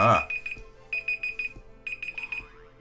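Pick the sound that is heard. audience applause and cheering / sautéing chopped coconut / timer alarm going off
timer alarm going off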